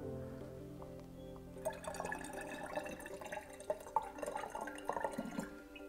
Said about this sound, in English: the next step is to pour our coloured water into the bottles